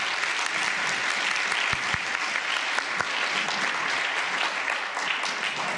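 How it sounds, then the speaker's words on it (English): A university audience gives a warm round of applause for a pastor, with dense, steady clapping that holds at full strength throughout and only faint voices underneath. "have another warm round of applause for Pastor David Richardson."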